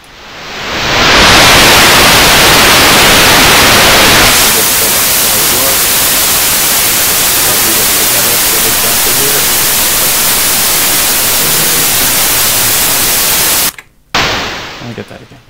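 Noise generated by a Csound plugin built in Cabbage and running in FMOD, a loud, dense broadband hiss that swells in, darkens slightly after a few seconds, holds steadily, then cuts out briefly and returns near the end.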